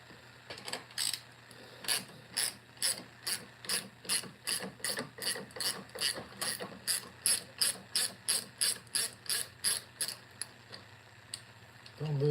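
A 7/16 speed wrench ratchets on a Toro Timemaster mower in a long run of quick, even clicks, steady and close, with a short pause near the end.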